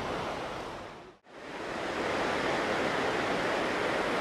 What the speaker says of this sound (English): And the powerhouse is putting out water.